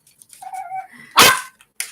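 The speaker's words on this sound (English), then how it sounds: "barking at the hamsters" A dog named Raspberry, barking at hamsters, lets out a single sharp, loud bark close by, preceded by a brief whine, with quiet room sounds around it.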